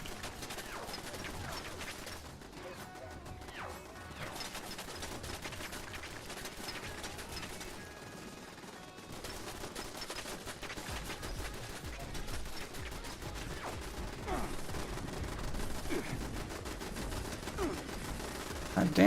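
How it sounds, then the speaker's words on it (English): Automated turrets fire in a video game in a dense, continuous barrage of rapid shots. Speech and game sounds play over it. "fucking turrets are going nuts"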